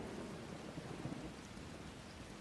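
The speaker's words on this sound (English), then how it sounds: "I better do it now before this rain gets any worse." Heavy rain pours down in a dense, steady hiss of drops on surfaces, constant and enveloping with no gaps, at a low overall level.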